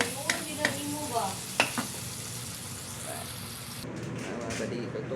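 Ginamos, a fermented fish paste, sizzles steadily in a frying pan with a few scraping stir clicks, close and moderately loud, ending in a brief quieter hiss.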